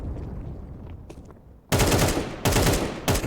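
P90 submachine gun fire in Counter-Strike during an ESEA Open playoff match, three loud rapid bursts of automatic fire after a quieter lead-in.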